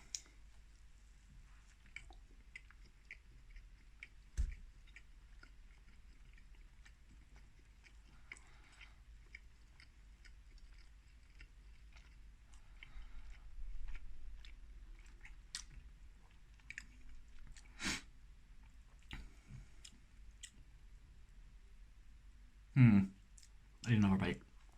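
Someone chews a sausage and cheese breakfast muffin from Heat Me Eat Me. Soft, faint, intermittent bites and mouth clicks sit in a quiet room, with a couple of louder crunchy bursts near the end.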